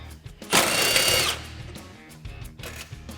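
Power tool backing out a 10mm bolt on a fender of a 2011-2014 Mustang GT, a short close burst of high whirring lasting under a second, followed by faint clicks and handling noises.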